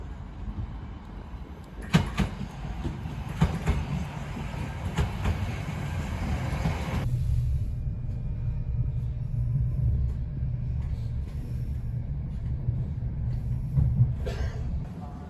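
A train at Liverpool Lime Street station: a low rolling rumble with clanks and knocks early on, then a steadier deep drone of the moving train, no talking.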